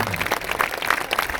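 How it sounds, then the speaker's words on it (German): An audience applauds a band linked live from Ukraine, a dense, steady wash of many hands clapping at moderate distance, filling the whole brief moment without any voices on top. "Großen Applaus! Und dieser Applaus kommt direkt an in der Ukraine"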